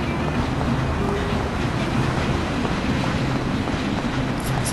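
A train arrives in a Mafia video game cutscene, heard as a steady, loud rumbling roar of rail cars that fills the whole clip with no talk over it.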